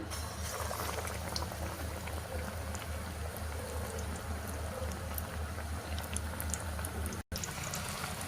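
Batter-dipped vada for vada pav deep-fries in hot oil with a steady, close, crackling sizzle and bubbling that continues evenly throughout.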